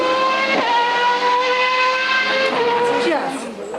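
A Minardi two-seater Formula One car screams past at Donington Park, a loud high-pitched engine wail rising through gear changes and then falling away, with speech-like commentary partly mixed in.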